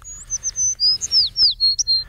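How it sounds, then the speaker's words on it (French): Birds sing close by in a rapid series of high, clear chirps and whistled notes, loud and continuous, with no voices. "On entend les oiseaux chanter."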